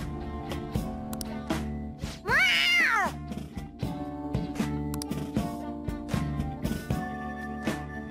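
A cat meows in the game Persona 5 Royal, a single drawn-out wavering meow rising over a soft background of music and clicks.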